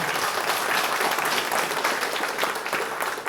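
Audience at a book release ceremony applauding an honoured literary figure, a loud, sustained burst of many hands clapping with no pause.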